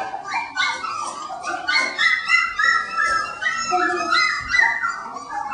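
Several three-week-old puppies yip, whine and whimper continuously at close range, a busy overlapping chorus of high-pitched cries with no pauses.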